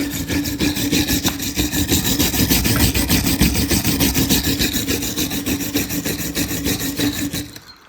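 Continuous rhythmic gritty scraping, a rapid back-and-forth grinding rasp that stays loud and steady before stopping, as engine valves of a 1983 Audi 80 GL B2 cylinder head are lapped with grinding paste.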